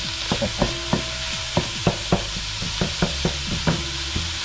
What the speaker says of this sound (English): I have another little gadget here that does breaking up the lumps for me.